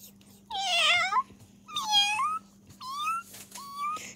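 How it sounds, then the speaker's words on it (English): An injured kitten gives four high, rising-and-falling meows separated by short pauses, close and clear over a low steady hum. "You're saying meow."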